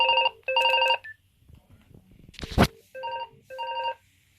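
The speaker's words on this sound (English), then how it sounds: "so that's my home phone, it's ringing" A home telephone rings in electronic double trills, two bursts, a pause with a brief rustle and thump, then two more, loud and close with no speech.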